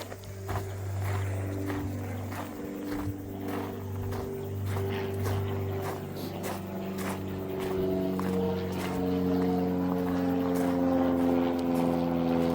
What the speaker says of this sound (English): That aeroplane has just flown directly over our heads.